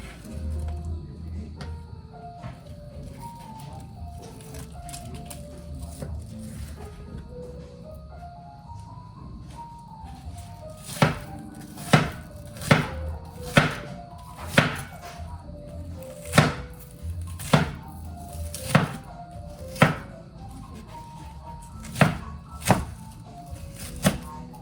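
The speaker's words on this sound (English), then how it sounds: "now to chop the onion" A knife chops an onion on a cutting board in about a dozen sharp, evenly spaced thunks, with quiet background music playing underneath.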